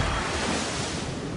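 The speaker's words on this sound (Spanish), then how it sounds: "Un muro rugiente de agua vuelve para llenar el vacío." A roaring wall of seawater surges with a dense, loud, continuous rush of waves and wind-like noise, steady across the whole short stretch.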